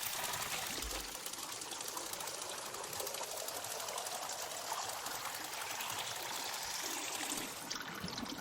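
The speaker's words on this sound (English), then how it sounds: "And we will go up and pour water." Water poured steadily in the WanderStop video game, a continuous soft trickling stream at low level, lasting for several seconds without talk.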